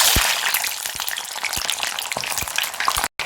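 Onions sizzling in hot oil that was just used to fry brinjal, a steady bright crackle with scattered sharp pops throughout and a brief dropout near the end.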